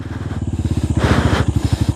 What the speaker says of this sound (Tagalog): Kayang-kaya ng tagusin ng motor.